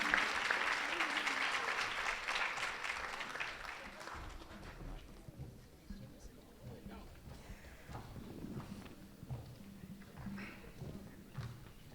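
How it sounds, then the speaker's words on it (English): An audience at a high school swearing-in gives a round of applause for Assemblymember MaryJane Shimsky; the clapping is fullest at first, then thins and fades to scattered claps and room noise, with some talk. "Let's give a round of applause, please, for Miss Assemblywoman MaryJane Shimsky."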